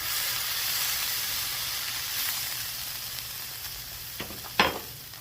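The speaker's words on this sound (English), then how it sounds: "I'm going to make sure that that burger gets cooked all the way" An onion burger sizzles steadily on a VEVOR 22-inch tabletop griddle, a close, continuous frying hiss with a brief spatula scrape near the end and no speech.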